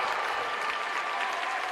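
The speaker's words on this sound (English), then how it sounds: "It draws the applause from the Cardiff City fans still in the grandstand" Cardiff City fans in a football grandstand clap in a dense, steady burst of applause after a free-kick goal at an under-21 match, with no talk over it.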